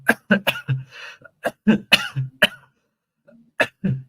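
A run of harsh coughs and throat-clearing bursts from a lingering, month-long cough, close and loud, coming in quick irregular clusters with short pauses between them.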